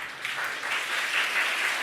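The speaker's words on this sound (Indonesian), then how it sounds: "Tepuk tangan sikit." A gathering at a ceremony where the Governor of Riau hands over aid for a new Islamic school building gives a short burst of clapping, a brief, moderately loud patter of many hands.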